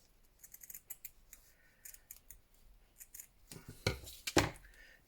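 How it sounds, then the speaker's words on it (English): Scissors trimming edge pieces of Hessian fabric: a run of small snips and crisp cuts, close and fairly quiet, ending with two louder snaps. "So I'm just going to trim off a couple of these edge pieces"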